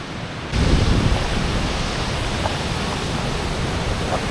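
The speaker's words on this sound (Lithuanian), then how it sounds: "Surasėm didelį krioklį." A large waterfall roars as a loud, steady, unbroken rush of water that swells suddenly after a brief quieter start and then holds constant, with no voices.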